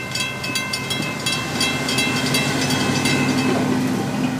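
An FEC freight train rolls past steadily and loudly with rhythmic wheel clatter and a constant rumble, the cars passing one after another at close range.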